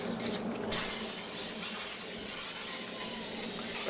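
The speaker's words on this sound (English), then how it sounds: "First, we're gonna spray our pan." A short burst of coconut oil cooking spray hisses close by onto a pan, followed by a steady, quieter hiss that continues to the end.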